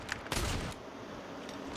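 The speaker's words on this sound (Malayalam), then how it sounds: "അതും സ്നൈപ്പറൊക്കെ വെച്ച് എന്തൊരു വെടിയടാ വെക്കണേ" Sniper gunfire in a Call of Duty match, a quick burst of sharp shots at the start followed by a fading tail, fairly faint and brief.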